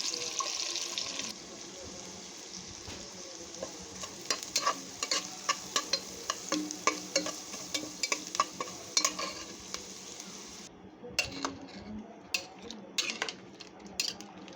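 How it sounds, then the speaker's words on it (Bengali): Ginger, garlic and cumin paste with turmeric, chili powder and meat masala is stirred in a frying pan for an egg and potato curry: a continuous close sizzle with repeated scraping and clicking of the spoon. "এখানে আমি আদা রসুন জিরা বাটা দিলাম, তারপর হলুদের গুঁড়া, মরিচের গুঁড়া, রাঁধুনি মাংসের মশলা গুঁড়া দিয়ে এটাকে ভালোভাবে মিক্সড করে নিচ্ছি।"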